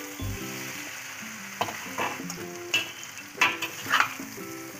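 Red chilli and cumin sizzle in a hot pan for chicken and vegetable chow mein, with several scraping stir strokes in irregular bursts over faint tonal background sound.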